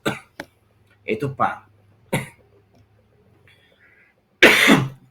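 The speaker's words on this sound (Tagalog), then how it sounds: "Pasensya na, inuubo ako ngayon ha." A person coughs several times in short bursts, with a throat clear and a longer harsh cough at the end, mixed with brief speech.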